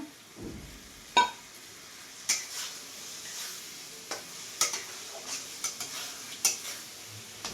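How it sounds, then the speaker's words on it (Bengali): Fried prawns added to a pan and stirred. Quiet scattered spatula taps and scrapes land irregularly over a faint low sizzle, close by, with no one speaking. "এবার ভাজা চিংড়ি মাছ দিয়ে দিলাম।"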